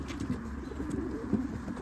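Tumbler pigeons coo softly in their loft, low murmuring calls repeating under a faint steady background hum, fairly quiet and close.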